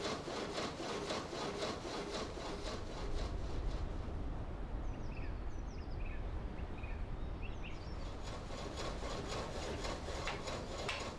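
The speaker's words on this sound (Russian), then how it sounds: "работающая на силе воды пила режет тонкие рейки Мальвено толщиной всего лишь в 10 миллиметров" A water-powered sawmill saw rasps continuously through wood, cutting thin 10-millimetre slats in a rapid, steady rhythm, loud and close, with faint birdsong chirping in the background.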